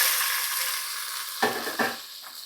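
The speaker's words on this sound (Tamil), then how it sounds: "இப்போ வெங்காயத்தை ஆட் பண்ணிக்கலாம்" Crushed onions frying in a pan for a fish curry of kendai and jilebi fish, with a steady soft sizzle and then two brief scraping stirs near the end, close and without talking.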